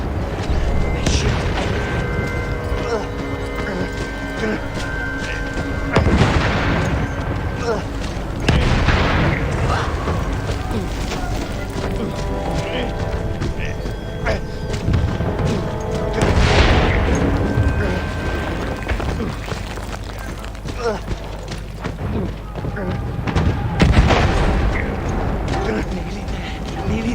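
Battlefield 1 combat rumbles with repeated heavy booms and blasts over a continuous din, with bursts of machine gun fire scattered throughout, while a voice talks over the action.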